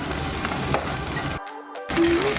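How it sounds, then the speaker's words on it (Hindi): Potatoes fry in hot oil with a loud, steady sizzle that breaks off for a moment and then returns. "मेरा ऑयल गर्म हो गया और इसमें डालती हूँ मैं। अब मैंने आलू इसमें डाला"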